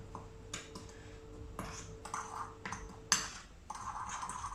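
Sugar and cinnamon being stirred in a bowl, with scattered clinks and scrapes of a utensil against the dish in short irregular bursts, close and fairly quiet.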